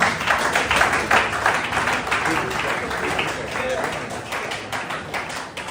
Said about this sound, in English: Please, a round of applause once more for him.